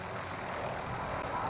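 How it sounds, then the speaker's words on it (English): In the Call of Duty: Modern Warfare video game, an airstrike aircraft roars overhead with a broad, steady engine rush that stays loud and full for the whole moment, with no voices. "Be advised, friendly precision airstrike inbound."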